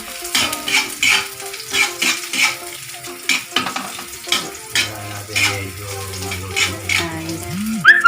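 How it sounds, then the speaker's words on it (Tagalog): Onions sizzling in a hot pan while being stirred for pancit palabok, with rhythmic scraping strokes of a utensil repeating about once a second over a steady frying hiss, close and clear. "Ilagay po natin yung sibuyas. Haluin po natin."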